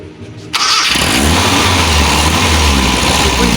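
After a brief quiet moment a car engine roars up abruptly and holds at high RPM during a solenoid test, a loud, steady, sustained rev with no talk.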